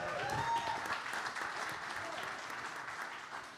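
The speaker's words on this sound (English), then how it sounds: "Give these all an incredible warm round of applause." Audience at a holiday festivity show at Sony Hall applauds Broadway Cares staff, a fairly faint, even wash of clapping with some whoops that slowly fades.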